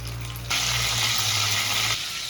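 Cumin, mustard seeds and curry leaves hit hot oil with a sudden loud hissing sizzle. It holds steady for about a second and a half, then drops away, over a low background hum.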